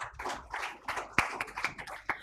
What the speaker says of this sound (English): Can we have a huge round of applause